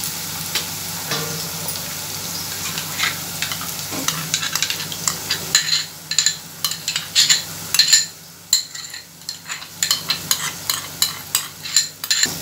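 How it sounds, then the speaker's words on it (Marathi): Spiced yogurt mixture for dahi aloo stirred in a pan on low heat, a soft sizzle under repeated close spoon scrapes and clinks against the metal, growing more rhythmic and pronounced as stirring continues. "दही घातल्यानंतर हे मिश्रण सतत हलवत राहायचं आहे."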